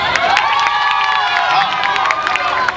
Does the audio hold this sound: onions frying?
no